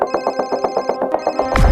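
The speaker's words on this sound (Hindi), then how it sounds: "कोई नहीं उठाएगा आज फोन।" A telephone rings nearby in a fast, rattling electronic trill, two rapid bursts of pulses, before a sudden loud rustling thud cuts in at the end.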